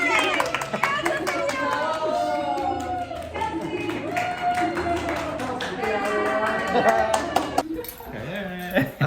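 Clapping at a twins' birthday gathering at home, with hands tapping among lively chatter, laughter and clinking, near and casual, with people talking over most of it.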